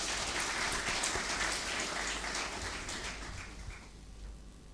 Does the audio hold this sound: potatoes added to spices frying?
no